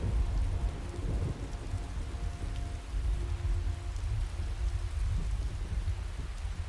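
Steady rain falls in the Skyrim video game, a dense continuous hiss of drops with low rumbling underneath like distant thunder, unbroken and fairly loud throughout with no talking.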